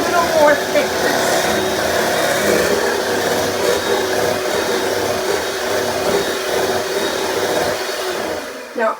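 An electric mixer whipping cream with sugar runs as a loud, continuous whirring hum for most of the stretch, then drops away near the end.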